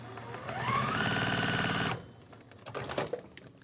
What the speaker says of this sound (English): And I'm gonna sew, and I'm gonna show you when I'm done how I sew.